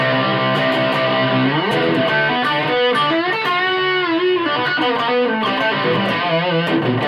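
An electric guitar plays through a Carlton HGS100 amplifier with the gain and boost engaged, giving a loud, saturated distorted tone with sustained chords and bending single-note lines that ring continuously without pause.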